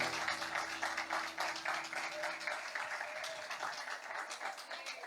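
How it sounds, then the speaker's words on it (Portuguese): A church congregation applauding during a family worship service, steady, fairly faint clapping that continues evenly for several seconds, with some voices underneath at the start. "dê mais uma salva de palmas para a pessoa mais importante que dessa manhã"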